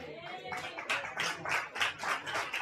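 A church congregation claps in tribute to the pastors' wives, a brief burst of rhythmic hand claps from a crowd, moderately loud, with faint voices underneath.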